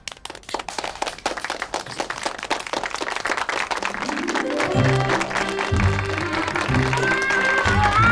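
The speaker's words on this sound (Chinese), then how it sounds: "来，我们掌声欢迎。" Schoolchildren in a classroom clap to welcome a classmate's mother as a guest. Brisk, scattered claps open the clip, then music rises and takes over in the second half.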